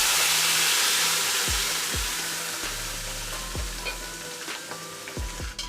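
Mashed greens go into a pan of fried onions and set off a loud, close hiss of frying that slowly eases. Repeated thumps and scrapes of a spoon stirring sit on top of the sizzle.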